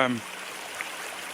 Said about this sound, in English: As you can see by the amount of water that's coming out, certainly draining the mine.